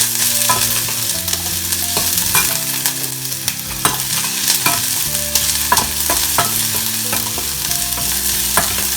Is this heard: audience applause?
no